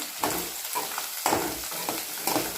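Small dry fish shallow-frying in hot oil, a continuous sizzle broken by several rhythmic scraping stirs, close and clear with no talking.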